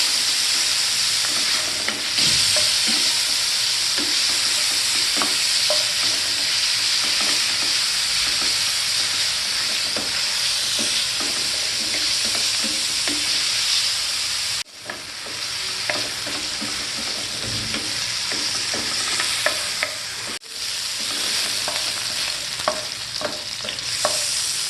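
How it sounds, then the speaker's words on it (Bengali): Chicken sausage pieces fry in hot oil in a pan, a steady close sizzle that runs throughout with frequent stirring scrapes and clatter and two brief dips where the sizzle drops away, with no talking. "এখন এই সসেজগুলো তেলে হালকা করে ভেজে নেব।"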